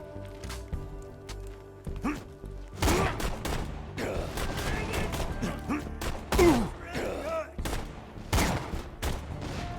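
Gunfire from Borderlands 2 against Deadeye Gunners, with bursts of shots cracking out in irregular volleys over a busy mix of game effects and mechanical clatter, loud and close throughout.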